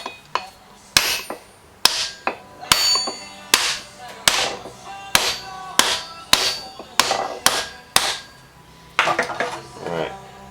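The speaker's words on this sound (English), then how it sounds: "Tapping the key in here, and it's got to fit in here, snug." A hammer strikes a metal key into the keyway of a muff coupling on a shaft with a dozen sharp, ringing metallic taps in an irregular rhythm, each decaying quickly, close by.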